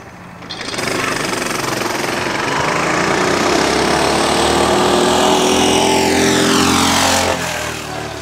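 A Coleman 200 go-kart engine races against an electric go-kart, giving a loud, close, buzzing roar. It swells up within the first second, holds with rising pitch for about six seconds, then drops away.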